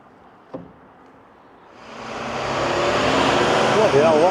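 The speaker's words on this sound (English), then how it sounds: "Bloody hell, what a noisy bus." A loud bus passes on a street in South Shore, Blackpool, its engine roar building after a short knock and swelling to a close, rumbling peak by the end.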